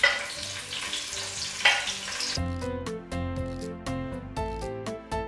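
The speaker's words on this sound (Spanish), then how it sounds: "Sofreímos la cebolla blanca. Y la cebolla morada, las dos juntas." White and red onion fry together in hot oil with a steady sizzle for the first couple of seconds, then give way to clearer tonal clinks and stirring knocks, close and moderate in level.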